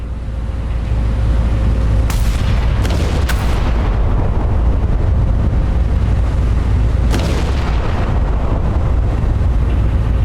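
Naval guns firing in the Battleship Command video game, a loud continuous low rumble with several sharp booming shots, a cluster early on and another later, heavy and close.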